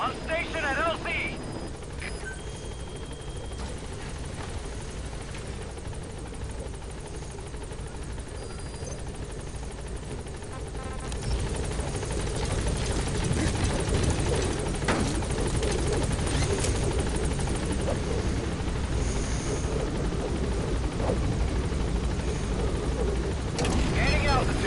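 Support helicopter from Metal Gear Solid V touching down at a landing zone and lifting off, a steady rotor drone that swells louder midway as it gains altitude, with someone talking over it.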